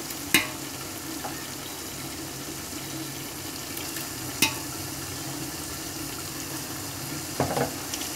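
Ginger garlic paste sautés with fried onions in a pot for mutton dum biryani, a steady low sizzle broken by a few sharp spoon scrapes and stirs, with no talking.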